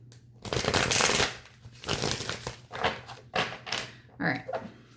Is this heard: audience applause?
no